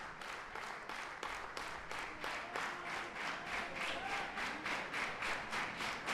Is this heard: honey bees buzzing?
no